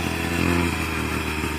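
High-performance quad bike engine revving, a steady, loud buzzing drone that rises briefly, heard close and alone.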